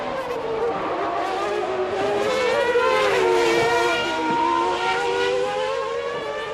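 Formula One cars at Imola during Friday qualifying of the 1994 season: loud, continuous high-pitched engine wails that rise and fall through gear changes, several cars overlapping with no voices.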